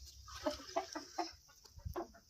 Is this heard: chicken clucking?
yes